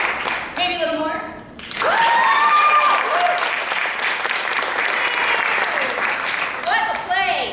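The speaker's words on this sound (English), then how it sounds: "Yes, clap hands for me." Listeners at a storytelling play clap together in a sustained, even burst of applause lasting several seconds, framed by short stretches of a person talking at the start and end.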